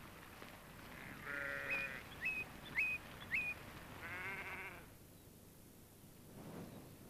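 North Country sheep bleating on a farm, a long nasal call followed by a few short calls in the middle, then a fainter bleat, fairly distant and quiet against background noise.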